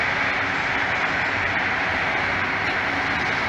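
A long freight train with intermodal cars rolls past close by in a steady, dense broadband roar of wheels and rail noise that stays constant throughout, with no voices.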